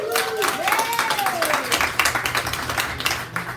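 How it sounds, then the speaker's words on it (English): Applause at an AutoDidact fundraiser event: a crowd claps in a dense, steady patter at close range, with a rising whistle-like tone and background voices mixed in. "big round of applause for them"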